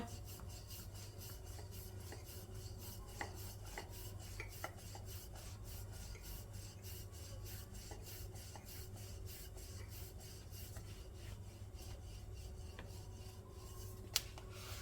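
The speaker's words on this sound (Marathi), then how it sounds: "हलक्या हाताने छान पोळी लाटून घेऊया" A rolling pin works jaggery-stuffed gulpoli flatbread dough, lightly dusted with flour, giving soft, quiet repeated rubbing strokes over a steady low hum, with no voices.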